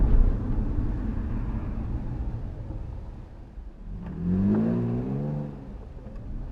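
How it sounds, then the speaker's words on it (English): A Jaguar F-Type sports car passes fast on a road, a rising engine note swelling mid-way over steady traffic rumble, moderately close and alone without voices. "It's a Jaguar, I think. Jaguar F-Type."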